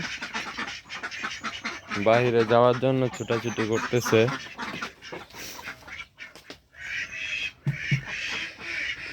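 Ducks on a farm let out a run of loud, nasal quacks in a cluster, with someone talking over and around them.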